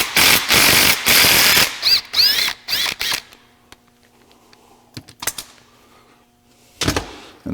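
A ratchet clicks rapidly on an 11 mm nut, loosening the turbo band clamp on a Duramax LBZ diesel: dense bursts of close pawl clatter, then sparse single clicks and a final short run.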